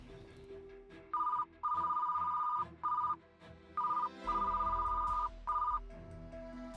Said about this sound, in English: His phone kept ringing, but no one picked up.